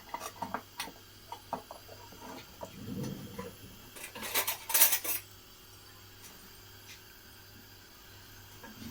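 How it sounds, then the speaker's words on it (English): A spoon stirs toad in the hole ingredients in a bowl, with light clinks and taps in a short cluster and then a brief louder rattle. The sounds are quiet and close, with no talking. "Just going to mix that round a bit, just incorporate it."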